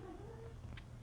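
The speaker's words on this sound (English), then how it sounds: "My cat just responded." A house cat gives a short, close meow-like wail with a drawn-out pitch that slides downward, heard over a low room hum.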